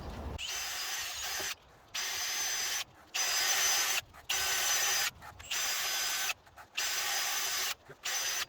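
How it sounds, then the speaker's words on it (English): A powered wire brush scours the rusty brake rotor hub of a Toyota Land Cruiser Prado, a harsh, bright whirring grind repeated in about eight bursts of a second or so each, separated by short silent gaps. "this step of wire brushing here and over there, you don't really have to do it"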